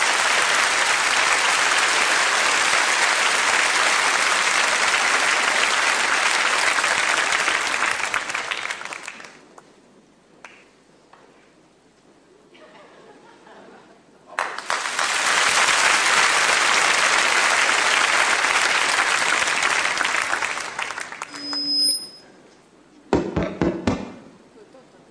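Audience at a stage show applauding in two long waves of dense clapping, separated by a quiet lull with faint room sounds, followed by a few thumps and brief noises at the end.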